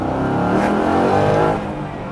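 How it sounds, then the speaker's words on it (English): A 1968 Ford Mustang Fastback restomod with a seven-speed dual-clutch transmission spinning its tires, a loud, steady engine roar with a harsh scrubbing edge that eases off near the end, heard up close. "If you can't tell, we were spinning the tires there a little bit."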